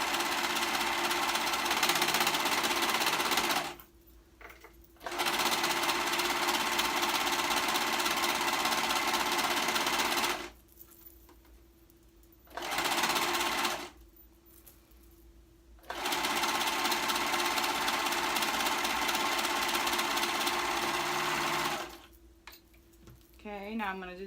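A sewing machine stitching two sleeves together runs in four bursts of fast, steady needle chatter, some long and one short, with quiet gaps between them, heard up close.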